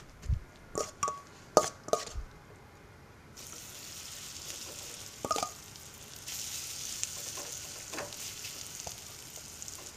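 Batter cake scooped into a pan with a little oil over medium heat, with a few sharp clinks and taps early on, then a soft, steady sizzle rising and continuing at low volume, with no talking.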